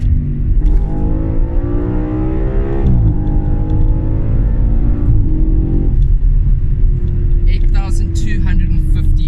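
An Audi RS4 sports car engine, 331 kW, revs hard, pitch climbing steadily toward redline with a brief shift dip, loud and close, rumbling throughout.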